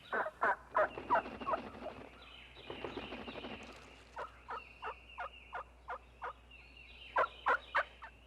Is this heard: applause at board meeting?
no